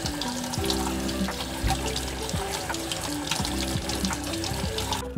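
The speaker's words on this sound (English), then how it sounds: "we're gonna go ahead and rinse these off" Tap water runs steadily into a sink while copper-infused 3D prints are rinsed under it, a close, continuous splashing and trickling with small bumps as the pieces are handled.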